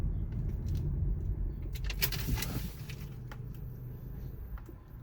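A car's idling engine cuts out through its start-stop system as the car halts at a stop: a low rumble that drops away, leaving a quieter cabin with faint rattles and clicks.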